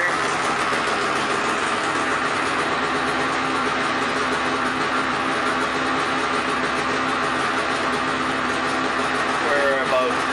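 A stock 2020 Polaris 850 snowmobile engine holds a steady idle, a continuous close hum with no revving, running without interruption for the whole stretch.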